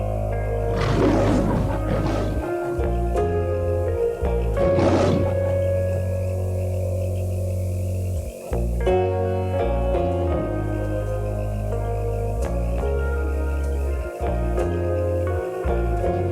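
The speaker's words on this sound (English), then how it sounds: "Lion." A lion roaring, with deep, loud rumbling roars and grunts repeated over a low sustained bed, the roars swelling and breaking off in bursts.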